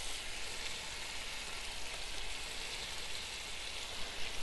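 Pork chops frying in melted butter in a hot pan give a steady, loud sizzle with a bright, spattering hiss that holds even throughout, with no voices.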